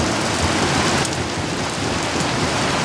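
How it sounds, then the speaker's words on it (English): Pouring rain falling outdoors where ducks stand in it, a loud, dense and constant hiss of drops hitting surfaces, with a slight swell in intensity about a second in and no speech. "It's pouring rain right now"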